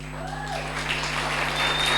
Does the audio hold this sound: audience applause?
yes